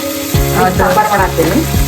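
Tempering for sambar sizzles in a hot pan, with radish, tomato, onion and garlic going into the oil; a steady, fairly loud fry runs throughout, with some tonal background sound underneath.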